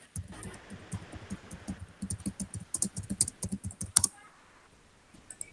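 Rapid typing on a computer keyboard during a classroom collaboration session, a steady run of close key clicks that thickens in the middle and ends with a few sharp strokes.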